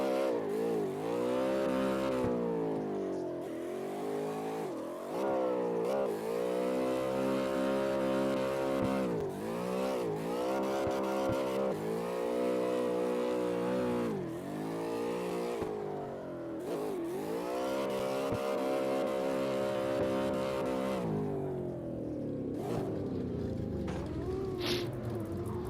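A four-speed drift car in CarX Drift Racing Online revs repeatedly, its engine tone climbing and dropping through the gears in rhythmic surges with brief lifts between, fairly loud and alone without talk.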